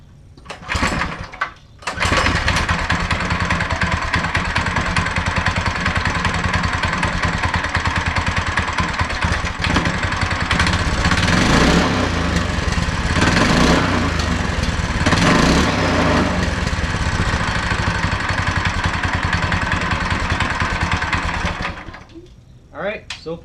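A small go-kart engine fitted with a torque converter starts and runs steadily, a loud, close, buzzing lawnmower-like drone with slight revving that holds for about twenty seconds before cutting off.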